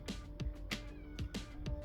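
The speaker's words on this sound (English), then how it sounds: "you can probably hear the cat crying for me" A cat meows repeatedly, four or five short plaintive cries spaced about half a second apart, close by over a low steady hum.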